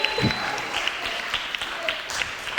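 Concert audience applauds a band's drummer and bass guitarist during the introductions at a Ukrainian folk-song show: dense, steady clapping filling the room for a few seconds, with a faint tonal hum beneath it.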